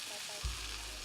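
Steak set down into a hot buttered pan, giving a sudden burst of sizzling that settles into a steady broadband hiss, close and brief.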